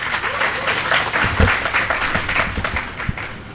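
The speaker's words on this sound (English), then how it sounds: "So a big round of applause for all of them." Applause at a Java Fest developer event honoring the organizers: a moderate round of clapping from an indoor audience, uneven and a little sparse, with a few sharper individual claps standing out.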